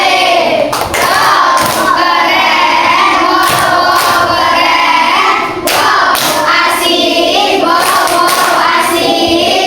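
A group of children in a classroom doing a rhythmic cheer clap together, sharp hand claps and thumps in a patterned beat, loud and close, with voices chanting along throughout.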